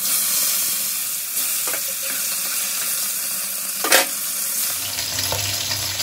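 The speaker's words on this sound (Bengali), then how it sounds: "এবার তেলটা খুব ভালো করে গরম হলে তারপর আমি মাছগুলো ভেজে তুলে নেব" Bata fish frying in very hot, smoking oil, a steady dense sizzle throughout with a brief louder crackle midway, close and loud with no talking.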